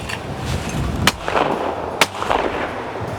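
Two sharp shotgun reports at sporting clays targets, about a second apart, each a loud crack followed by a short rolling outdoor echo over steady background wind noise.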